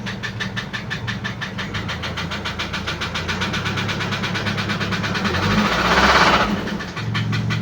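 An Isuzu Alterra engine that is misfiring and knocking idles close by, with a fast, even, rhythmic ticking knock over a rough rumble that swells briefly near the end.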